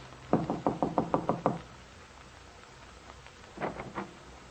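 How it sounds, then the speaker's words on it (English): Someone knocks on a bungalow door in a 1940s radio drama: a quick run of about seven sharp raps, a pause, then a softer group of three or four knocks over a light background hiss. "Getting out, she walks to the door of Bungalow B and knocks."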